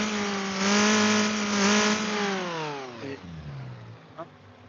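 A car engine revs up and winds back down during a mass airflow sensor check, the loud climbing harmonic whine holding near and then falling away toward idle, with a few faint clicks at the end.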